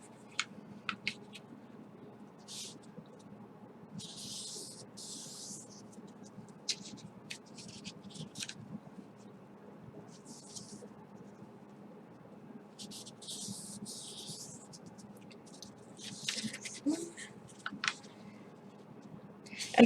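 Origami paper being folded for a shuriken gives soft crinkles and crisp scraping creases in scattered bursts, close and fairly quiet over a low background hum.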